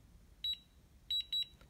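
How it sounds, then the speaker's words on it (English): A ScanLogic alarm keypad confirms a factory reset with electronic beeps: one short tone, a pause, then two quick beeps, clean and close in a quiet room. "You get that beep and then beep beep to say that is completed."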